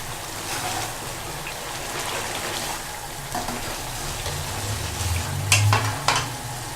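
Achari chicken karahi sizzles steadily in the pan, a dense crackling hiss that swells toward the end with several close clinks and scrapes of stirring.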